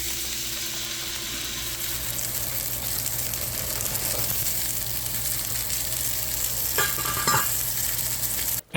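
Steak and green beans frying in a pan give a steady, close sizzle throughout, with a couple of brief louder stirring scrapes near the end.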